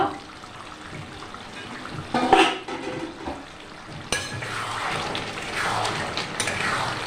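Yogurt chicken being stirred in a pan: wet, sloppy scraping and a metallic clank of the spoon against the pan, followed by a steady soft sizzle.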